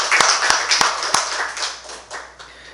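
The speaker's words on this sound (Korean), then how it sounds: "환영의 박수 올리겠습니다" A small church congregation gives a brief round of welcoming applause during a Sunday service: a few sharp, separate claps at first, then a softer, loose patter that fades within about three seconds.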